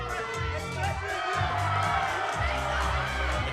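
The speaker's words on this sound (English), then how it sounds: "The crowd is feeling it tonight." A crowd at a live professional wrestling show cheers and shouts, with loud, steady, massed voices and whoops and a low droning undertone throughout.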